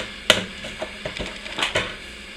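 Homemade bread dough worked by hand, giving a run of soft slaps and thumps: one sharp hit near the start, then smaller irregular knocks and a couple of louder slaps, close by with no talking.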